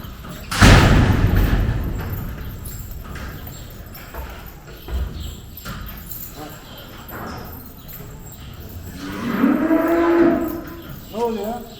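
A young sacrificial calf tangled in a rope moos loudly at close range, with a second drawn-out bellow later, amid hoof scuffs, knocks and farmyard movement as people talk nearby.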